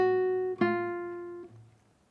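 A single guitar note rings out, then a second note is plucked and sustains before cutting off, leaving a faint decaying tail.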